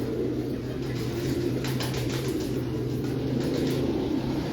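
Sialkoti parel pigeons cooing inside an enclosure, low soft coos over a steady background hum with a few faint chirps, no talking.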